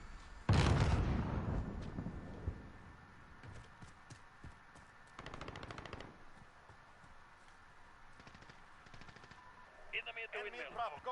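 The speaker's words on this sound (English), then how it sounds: "Ah, explosions." A loud boom opens, followed by bursts of rapid gunfire and crackling impacts, with game-like electronic effects near the end, in Call of Duty: Modern Warfare.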